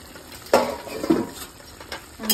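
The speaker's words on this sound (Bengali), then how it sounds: "এবার ঢাকাটা খুলে দিই।" A metal lid lifted off a cooking pot in a village kitchen where fish sits rubbed with salt and turmeric, giving a few light clanks and clinks spread over a couple of seconds, fairly close, with no talking.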